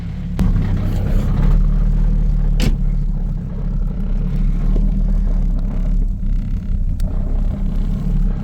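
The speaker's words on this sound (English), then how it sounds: "Let's go ahead and take the car for a quick test drive." A car with a clutch slave cylinder fault rumbles along on a test drive, a steady low engine drone heard from inside with a few sharp clicks.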